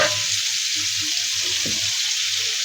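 Turmeric, chilli and coriander powder sizzle in a frying pan with fried tomatoes, a steady bright hiss with soft stirring scrapes underneath.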